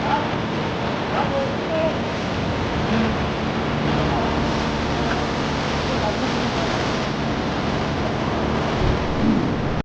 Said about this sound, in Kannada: ಈ ಹಳ್ಳ ಹೆಂಗೆ ಹರ್ಕೊಂಡು ಹೊಂಟೈತಿ ನೋಡಿ